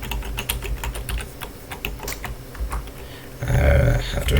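Someone types a password on a computer keyboard while setting up a Linux user, a quick run of close, crisp key clicks over a low background hum, ending in a louder burst of rustling.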